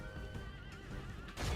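A horse neighs in a wavering whinny during a Medieval II battle, heard over rumbling combat noise, followed by a heavier thud of hooves at the end.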